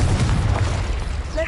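Explosive Confringo spell blasts in Hogwarts Legacy produce a dense, loud low boom that rumbles steadily throughout, with a faint tonal effect at the very end.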